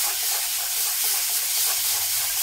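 Bottle gourd leaf paste fries in oil and salt in a pan, giving a continuous loud hissing sizzle with no break.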